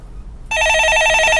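A telephone rings on a call-in stock market advice show, a steady electronic warbling bell that starts about a third of the way in and continues loud and close, alone without talk.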